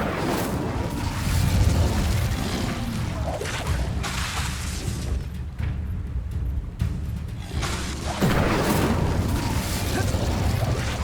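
The Incendio fire spell is cast in the video game Hogwarts Legacy, producing loud, dense fiery bursts and rumbling blasts that swell, dip briefly, then surge again.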